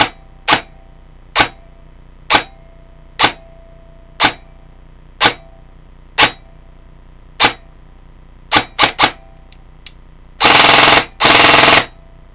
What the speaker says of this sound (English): if you're hearing that twang, it's the spring in there